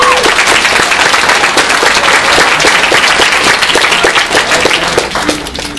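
Loud, close applause from a panel audience at New York Comic Con 2012, dense clapping with some individual sharp claps standing out, tapering off slightly near the end.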